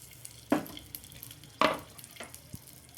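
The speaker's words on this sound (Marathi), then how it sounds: "ह्या मिरच्या, लसण, यांना छान फ्राय करू।" Garlic cloves and green chillies frying in a little oil, two bursts of loud hissing sizzle about a second apart, each fading quickly, over a low steady crackle.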